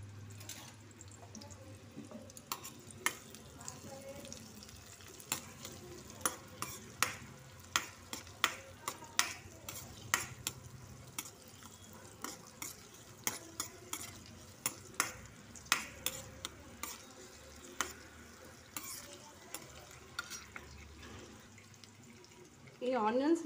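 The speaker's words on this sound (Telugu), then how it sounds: "ఇవి కొంచెం వేగాలి, మనం వేయించుకుందాం. కొంచెం ఆ ఆనియన్స్ అనేటివి కొంచెం మగ్గాలన్నమాట." Onions frying in a pan and stirred repeatedly, a steady sizzle broken by sharp clinks and scrapes of the spoon against the pan, close and fairly loud, with no one talking.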